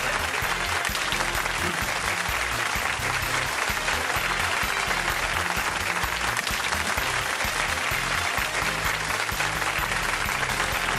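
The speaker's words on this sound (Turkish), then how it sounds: "Alkışlarla onlar yerlerini değiştiriyorlar." A studio audience on a Turkish pyramid-style game show claps continuously, a dense, loud and even wall of applause that holds steady the whole time.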